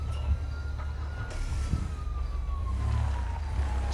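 An ambulance siren wails in GTA 5, a single rising and falling tone over a low rumble of traffic and engine noise, heard at moderate distance.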